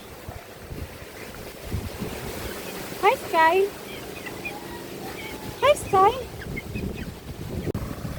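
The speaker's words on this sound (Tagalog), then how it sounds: "Lakas ng hangin." Strong wind from Typhoon Pepito in the Philippines buffets the microphone in a steady, close roar of low rumble, with a couple of short spoken greetings cutting through.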